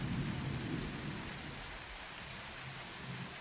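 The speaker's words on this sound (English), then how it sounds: "It's raining." Steady rain pours continuously with a dense hiss, a low rumble beneath it early on, no voices.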